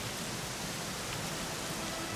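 Steady rain falling in Dragon Quest XI S: Echoes of an Elusive Age, a dense, even hiss of downpour that holds unbroken throughout, with no voices over it.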